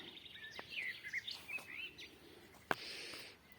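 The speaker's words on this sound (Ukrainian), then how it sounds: "чути ще щебіт різноманітного птаства" Various wild birds chirp and sing in a damp, flower-filled early-summer meadow, with faint scattered tweets and short whistled phrases, one sharper call near the end, all fairly distant and quiet against a soft background hiss.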